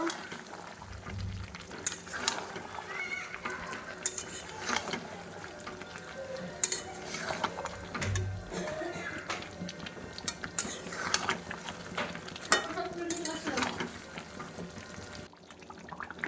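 Meat stir-fried in a pan with spinach and coriander leaves, giving a steady busy clatter and scraping of stirring over a low sizzling bed, with louder knocks at intervals.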